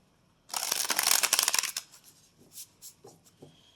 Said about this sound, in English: shuffling these back in, and let's shuffle one more time